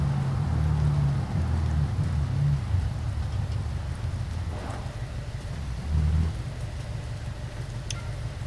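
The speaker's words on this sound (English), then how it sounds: "It'll still be raining," Steady rain hisses under a deep, rolling rumble of thunder that swells and fades, with no voices, in the BeamNG racing video game.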